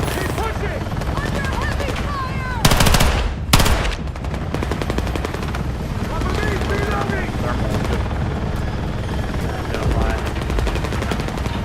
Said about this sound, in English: Is that an enemy chopper?